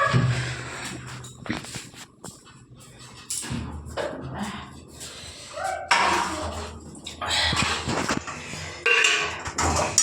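Dishes and pots clank and scrape irregularly up close, with splashing water bursts and occasional thuds in between.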